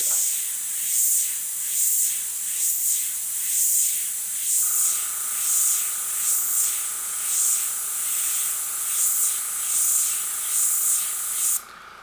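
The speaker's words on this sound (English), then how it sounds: "I had some Wicked Opaque white already mixed up, so I've now got that in the airbrush, and we can just add a little bit of a highlight." An airbrush sprays Wicked Opaque white paint in a steady close hiss that swells and fades in gentle pulses over several seconds, with a faint tone entering partway and the spray cutting off near the end; no one speaks.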